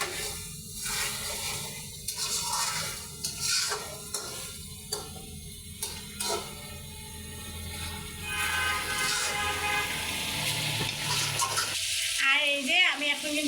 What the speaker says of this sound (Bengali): আমি এখন এর মধ্যে যে পরিমাণে ঝোল রাখবো সেই পরিমাণেরই আর কি ঝোলটা দিয়ে দেবো।